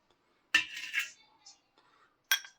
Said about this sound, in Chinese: 最後把裡面的調料我們給它盛入一個碗中